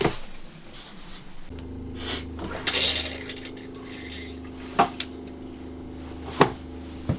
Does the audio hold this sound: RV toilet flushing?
yes